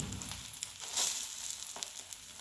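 Egg flatbread (anddyachi poli) fries in a little oil in a pan, giving a steady, close sizzle with faint crackles and one brief louder burst, with no voices.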